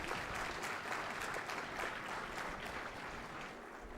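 An audience at a university convocation ceremony applauds to welcome a guest, a soft, continuous patter of many hands clapping, heard fairly faintly from a distance.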